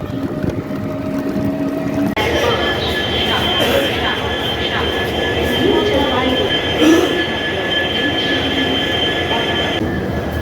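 A train moves at a railway station on the New Jalpaiguri to Barddhaman route, with a loud rolling rumble, squealing wheels and a constant clatter. Voices can be heard in the background.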